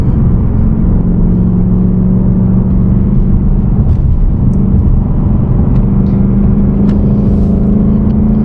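Steady, loud engine drone inside a manual car rounding a curve, a deep continuous rumble with a faint whir and no talking.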